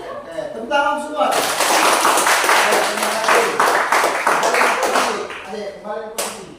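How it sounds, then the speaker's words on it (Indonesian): A group claps hands together at a training session, a dense burst of many claps lasting several seconds, with a voice speaking before and after. "Oke, tepuk tangan semua."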